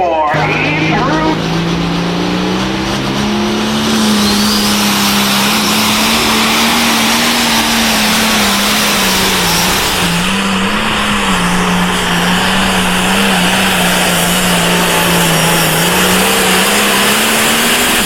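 A pulling tractor's engine roars loudly and continuously at a tractor pulling event, a sustained heavy drone that wavers in pitch as the machine strains under load for the whole stretch.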